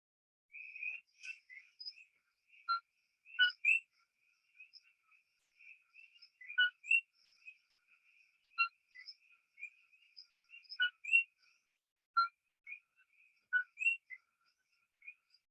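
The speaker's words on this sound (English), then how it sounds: "So you heard that two-tone coquí, coquí." Coquí tree frogs in Puerto Rico call in clear, repeated two-note chirps, scattered and fairly faint, with several frogs overlapping against a quiet background.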